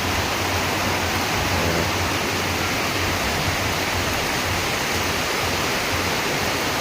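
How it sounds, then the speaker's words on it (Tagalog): Rushing floodwater during heavy rain, a steady dense roar of water and downpour that fills the whole clip without pause, close and loud. "oh, baha na siya baha baha"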